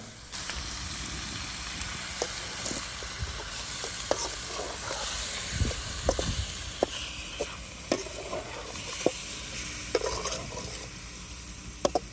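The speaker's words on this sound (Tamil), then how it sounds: "கடாய் சூடானதுக்கப்புறம் கறியை டைரெக்டாக சேர்த்துக்கலாம். கறியை சேர்த்ததுக்கப்புறம் 5 நிமிஷம் நல்லா வேக விடுங்க." Chicken pieces fry in a hot kadai for a chicken ghee roast, with a constant close sizzle and hiss broken by sharp clinks and scrapes of stirring.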